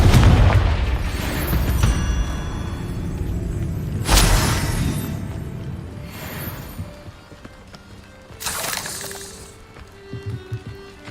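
Spell blasts and explosions in the Hogwarts Legacy video game: heavy booms and bright crackling bursts recur every few seconds, with rumbling and clattering combat noise between them, loud and close.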